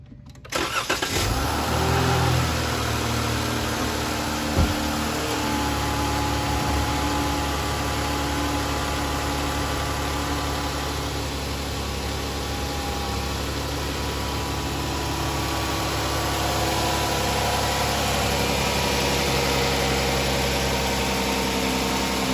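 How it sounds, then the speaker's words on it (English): A 3.6 V6 Dodge/Chrysler/Jeep engine cranks and catches with a short burst, then settles into a steady, even idle that drones on alone at moderate level, fresh after a thermostat housing replacement. "All right, now I'm gonna go start the car."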